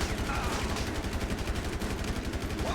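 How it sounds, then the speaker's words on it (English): Rapid automatic gunfire in the GTA 5 Gang War mod, a dense, continuous burst of shots rattling loudly throughout, close and sustained with no pauses. "Oh, somebody behind me shooting too?"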